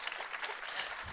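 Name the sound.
audience applause for speaker Linda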